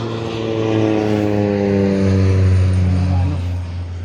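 A propeller airplane drones steadily overhead, its loud, even tone holding for about four seconds with a slight swell in the middle, and faint voices beneath it.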